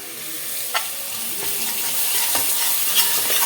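Masala sizzles steadily in a pan while being fried for a mutton head curry, a continuous close hiss broken by a few soft scraping strokes of a spatula, with no talking.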